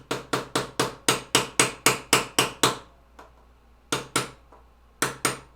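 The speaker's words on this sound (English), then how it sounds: "Just like a hammering sound is always fun to hear on the playing field." Hammer blows ring out in a fast, even run of about a dozen sharp metallic strikes, then a pause and a few more hits, loud and close with nothing else over them.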